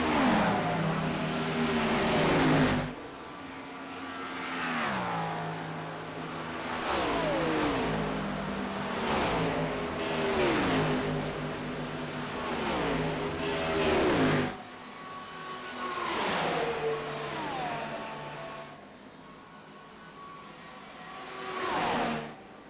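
A line of race cars in iRacing on the Michigan oval, engines revving and whining as they pass one after another in a steady rhythm, each pitch swelling and dropping as the car goes by, with no talk.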